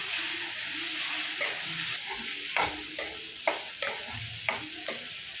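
Mint and coriander fry with onion in a pan for onion chutney, a steady soft sizzle broken by several sharp spoon scrapes and taps as the mixture is stirred, with no talking.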